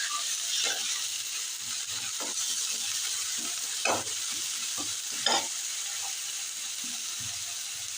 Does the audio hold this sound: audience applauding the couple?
no